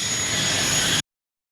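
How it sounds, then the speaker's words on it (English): Jet engine of a parked Airbus A320 roaring loud and steady at close range, a continuous broadband roar with a high whine that cuts off abruptly after about a second. "I decided to vlog right next to a massive aircraft engine"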